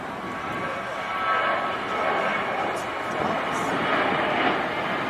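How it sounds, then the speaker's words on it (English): An older Southwest Boeing 737-700 jet moving at an airport gives off a steady, moderately loud engine whine and roar that swells slightly midway, heard from some distance. "here's that older Southwest 737-700 that we saw earlier."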